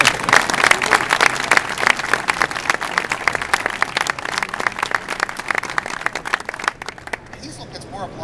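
Sustained applause from a large conference audience, dense rapid clapping filling the whole stretch and thinning out near the end.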